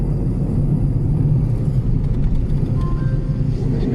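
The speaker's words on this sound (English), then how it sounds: "There's a horrible drone coming from the back somewhere" A 2009 Toyota Aygo driving along with a constant low droning rumble from the rear, steady and loud throughout with faint higher whines above it.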